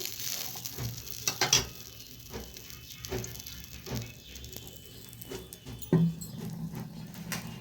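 Oil heats in a pan for a prawn curry, giving a low steady crackle and sizzle with a few sharp clinks and stirring scrapes, fairly quiet.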